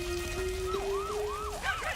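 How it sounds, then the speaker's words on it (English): Fire engine sirens wail in a repeating rising and falling sweep, fairly quiet and distant, over a steady tone and soft rain-like noise. "The sirens began to wail."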